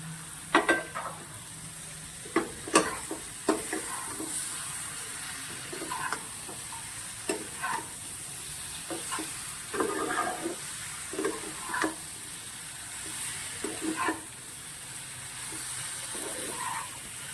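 Fried pointed gourd is tipped into a pan of potatoes and cooked spices, giving a soft steady sizzle punctuated by scattered scraping stir clacks and bumps of a spatula against the pan.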